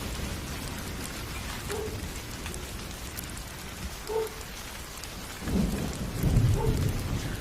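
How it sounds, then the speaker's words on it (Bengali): Heavy, steady rain hisses through a cartoon storm, and a low thunder rumble rises near the end, louder than the rain. No speech is heard. "আজ 3 দিন যাবৎ অনবরত বৃষ্টি হচ্ছে"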